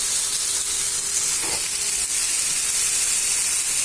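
Onions fry in hot oil with chicken, a constant close hiss and sizzle that stays even, with a faint clink partway through.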